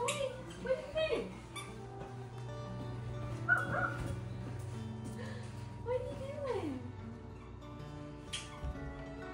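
An Aussiedoodle puppy, five and a half months old, gives a few short yips and whimpery barks at irregular moments against a steady low room hum, with quiet voices around it.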